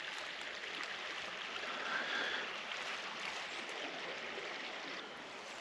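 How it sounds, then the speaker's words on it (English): A small creek on farmland runs beside a deep little pool, a soft continuous rush and babble of water, even and unbroken, fairly quiet and close with no voices over it. "Listen to that water run."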